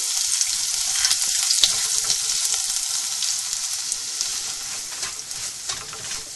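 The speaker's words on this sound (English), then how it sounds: "now I'm going to add rava" Semolina with chopped green chilies sizzling and crackling steadily in a hot pan, a constant close frying hiss with light stirring scrapes.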